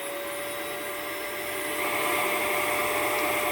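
A Miele S7 Bolero vacuum cleaner roars steadily with suction at the end of its wand, a loud, close, continuous whine that swells slightly partway through, with no voices.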